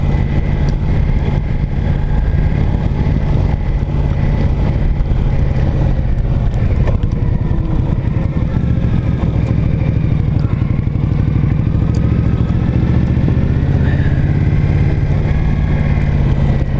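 An Indian motorcycle rumbles along a washed-out mountain road on White Oak Mountain, its engine a steady, loud, close drone with clatter from the rough surface throughout.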